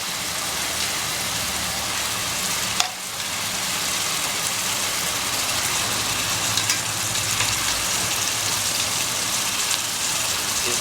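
Marinated mutton mixed with its spices into onion and tomato, sizzling and frying steadily in a pan with a dense, continuous crackle and one brief clatter early on.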